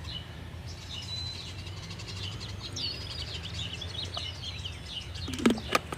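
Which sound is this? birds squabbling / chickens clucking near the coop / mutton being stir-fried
birds squabbling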